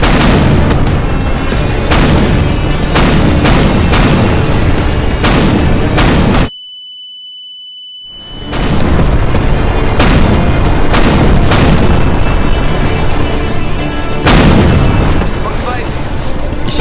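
Battle in Garry's Mod Star Wars: The Clone Wars roleplay, with dense, loud gunfire and booming explosions that run almost continuously. The barrage breaks off in a brief silent gap, then resumes as heavy as before.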